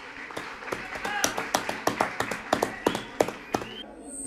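A handful of people clap at a rap battle reaction, with distinct, sparse claps in an uneven rhythm over several seconds and faint background voices.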